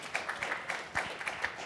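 An audience at an NFT panel event applauds a panelist with quiet, steady clapping from many hands at a distance, a soft, continuous patter.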